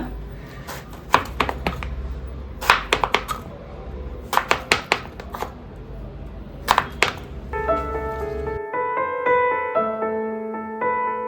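A knife slicing raw mango into long strips chops sharply in quick clusters of four or five strokes against a board, close and crisp, then gives way to a bright tonal chime.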